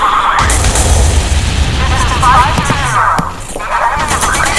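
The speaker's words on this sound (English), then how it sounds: "then drop a bomb." In the naval video game Modern Warships, a dropped bomb bursts with a loud booming explosion and rumbling blast, followed by crackling debris, with someone talking over the action.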